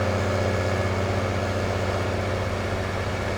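Tractor engine idling in the Farming Simulator 19 video game, a steady low, even rumble held at constant level throughout, with no talk over it.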